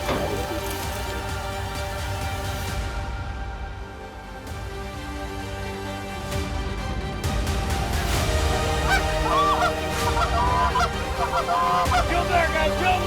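Canada geese honk loudly and continuously during a goose and mallard hunt in a heavy Wyoming snowstorm, many overlapping calls close by over a steady background of wind and gear noise.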